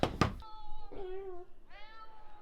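An old cat meows twice at close range, each call drawn out and tonal, following a pair of sharp knocks at the start.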